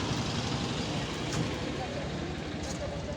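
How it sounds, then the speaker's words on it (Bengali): A bus pulls out of the Karunamoyee bus terminus in Kolkata amid steady, loud roadway traffic noise and engine rumble throughout, with a voice faintly present. "এখান থেকে একটা বাস বেরোচ্ছে।"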